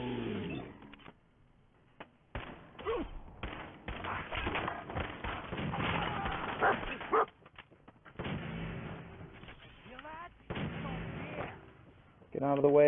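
Dog barking amid bursts of gunfire in the Fallout 4 video game, sharp irregular shots and barks in clustered bursts separated by quiet gaps, moderately loud.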